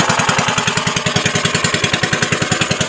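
Small fishing boat engine running after a difficult start, a loud, close, fast regular chugging pulse that stays steady throughout with no talk over it.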